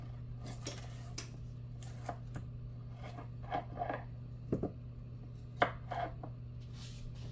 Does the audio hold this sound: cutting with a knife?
yes